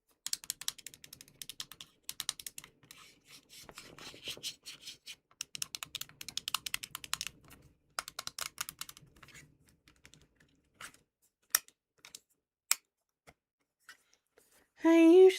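Random objects, including a bear-shaped fan, are tapped close to the mic in quick clicky bursts and scattered single taps, loud then sparse, with a short snatch of voice right at the end.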